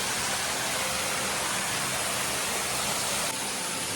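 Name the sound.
small waterfall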